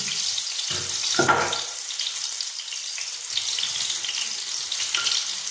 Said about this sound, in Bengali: এবার আমি সামান্য একটু হলুদ আর নুন দিয়ে আলুটাকে হালকা করে ভেজে নেব